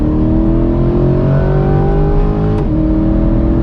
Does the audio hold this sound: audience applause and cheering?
no